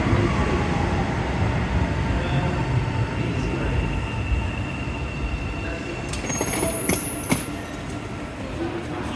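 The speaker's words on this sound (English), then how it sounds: "This is a Line 1 or Confederation Line train" An Ottawa Line 1 Confederation Line light rail train rumbles along steadily, then sharp metallic wheel squeals and clanks ring out near the end.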